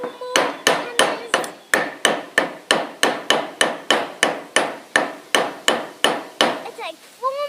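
A hammer drives a nail into wood at an off-grid carpentry build of a rocket stove, about eighteen sharp, loud, evenly spaced strikes in a steady rhythm, with a brief pause and a faint noise at the end.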